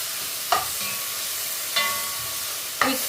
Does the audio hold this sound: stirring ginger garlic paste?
yes